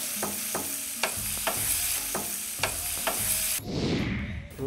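Carrots and red chillies fry in oil as a spatula scrapes the pan in a quick regular series of about eight strokes over a low sizzle, then a burst of louder hissing near the end, with no speech.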